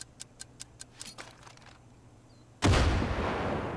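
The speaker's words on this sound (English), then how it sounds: "Alright, we'll chunk a grenade at it." In Far Cry 5, a grenade is thrown and goes off: a run of quick ticking clicks, a short pause, then a sudden loud close blast with a rumbling, sustained roar afterward.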